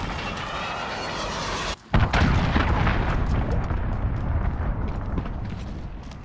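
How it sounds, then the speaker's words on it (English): A cruise missile strike in Call of Duty: Modern Warfare lands after a brief hush: a deep, loud explosion followed by a long rumbling roar of debris and battle noise that slowly fades. "Enemy cruise missile, take cover!"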